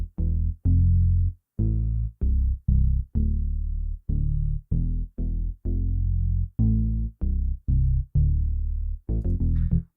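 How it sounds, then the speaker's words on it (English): A square-wave synth bass line made in FL Studio for a West Coast style beat plays alone, with short, punchy, evenly rhythmic notes separated by brief gaps, loud and dry. "I'm gonna play this bass line real quick."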